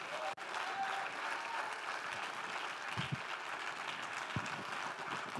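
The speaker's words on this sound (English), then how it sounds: "Oh, clap your hands with all of your might." A church congregation claps hands steadily during a lively worship service, a broad wash of applause filling the room at moderate level, with no voices standing out.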